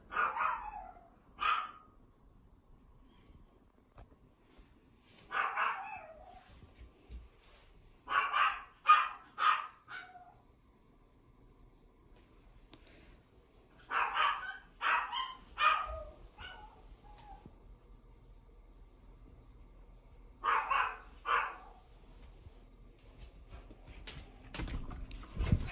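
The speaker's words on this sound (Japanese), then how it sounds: "ちょっと今外に出たんですけど、すぐ吠え始めました" A dog left alone after its owner steps out barks in short bursts of two to four sharp yips and barks, repeated every few seconds, fairly close, with quiet pauses between.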